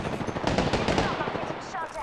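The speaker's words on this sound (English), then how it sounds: "Opening fire on the enemy." Automatic gunfire in the battle royale shooter Apex Legends, with dense overlapping bursts of rapid shots rattling continuously for about two seconds, loud and close, with some game voice in the mix.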